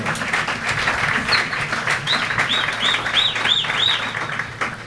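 A church congregation applauds in a sustained wash of clapping that fills the room evenly, with a few faint chirping tones in the background.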